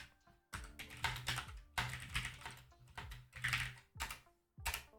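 A computer keyboard clatters with rapid bursts of keystrokes as code is typed, close and fairly quiet, with short pauses between the flurries.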